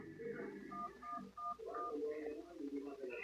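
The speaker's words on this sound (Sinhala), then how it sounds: "මම දැන් මේ ඩයල් කරනවා" Touch-tone dialing on a telephone keypad in a horror ghost video game, a quick series of short beeping tones in an uneven rhythm, with someone talking over them.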